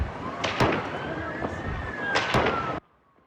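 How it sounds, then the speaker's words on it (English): Several rounds of gunfire aimed at a crowd along a beach, heard as sharp loud bursts over a busy, noisy background with a steady tone running beneath before the sound cuts off abruptly. "Several rounds of gunfire blasting towards the crowd along the beach."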